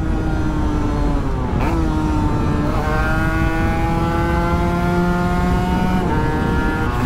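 An Aprilia RS 125 motorcycle accelerating on a road sings through several rising, high-revving pulls, dropping briefly between gear changes before climbing again, loud and close with wind noise beneath.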